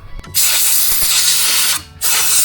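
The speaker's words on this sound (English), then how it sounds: "So I'm going to grab the air compressor and kind of blow this out." Compressed air from an air compressor blows dust and debris out of the engine bay of a 2020–2024 Ram 2500/3500 with the 6.7L Cummins: two loud, close, steady hissing blasts separated by a short pause, with no talking.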